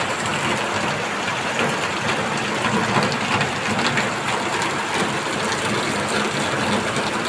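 Heavy rain pours down steadily at night around 3 a.m., a dense, unbroken hiss filling the scene with a low engine-like rumble underneath, no voices.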